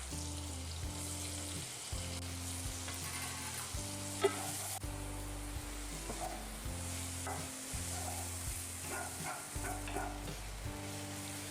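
Three chopped mid-size onions fry in a pan with a chopped chilli, a steady close sizzle broken by repeated scraping strokes of a spoon stirring, with a low background hum throughout.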